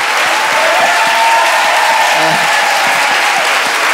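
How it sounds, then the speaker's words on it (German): A stadium crowd cheers and applauds loudly and steadily after Bulgaria wins the European championship, a dense wash of clapping and roaring voices with no pauses. "Die Zuschauer springen von den Sitzen und toben."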